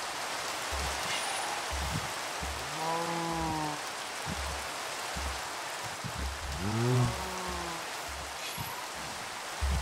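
Steady, soft rain in the video game Minecraft patters continuously in the background, with some faint rhythmic thumps and a brief tonal sound mixed in.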